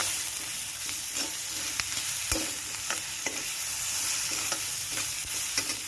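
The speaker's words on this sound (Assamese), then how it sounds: "অকণমান লৰাই দি" Spiced potato curry being stirred in a frying pan for an Assamese aloo curry, with a steady sizzle and repeated scraping clicks of a spoon against the pan, close and continuous with no talking.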